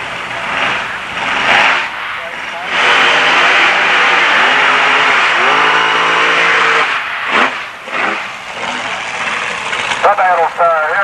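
Drag racing car powered by a 481 cubic inch big block Chevrolet engine roaring loudly at a dragway in 1986, a sustained heavy engine note with pitch shifts, overlapped by a commentator talking throughout.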